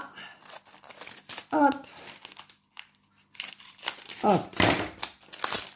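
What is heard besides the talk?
scissors cutting and crinkling material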